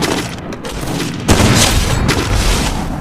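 Sniper rifle fire in the Free Fire battle game, a loud broadband blast hitting at about a second and a quarter and ringing on through a dense, noisy game mix, with no voices.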